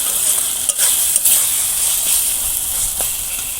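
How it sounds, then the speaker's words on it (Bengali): Water hitting hot frying masala for a dhaba-style egg curry gives a loud, continuous close-up sizzle and hiss in the pan, broken by a few small spatters, with no one talking. "এবার আমি জল দিয়ে দেবো।"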